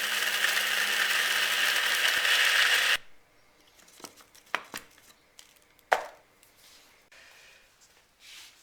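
Linseed and chia seeds being crushed: a loud, continuous grinding roar lasts about three seconds, then stops and gives way to scattered knocks, taps and clicks at close range.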